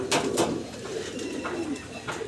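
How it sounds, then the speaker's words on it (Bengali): A pair of modern fancy pigeons coo close by, with a few soft, throaty rolling coos in quick succession. "এক পেয়ার মডার্ন কবুতর দেখাচ্ছি"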